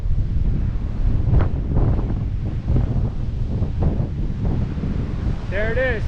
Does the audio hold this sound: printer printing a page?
no